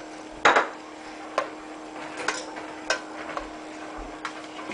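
Utensil tapping and scraping in a pan while garlic is stirred into veggie lasagna sauce, a few sharp ticks spaced irregularly over a low steady hum, close and fairly quiet.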